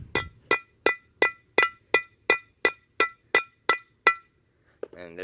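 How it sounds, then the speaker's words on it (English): A hammer drives a metal pin into a concrete anchor with about twelve sharp, evenly spaced ringing metallic strikes, close and clear, followed by a brief pause and a short voice at the end. "go ahead and drive your pin in with your hammer"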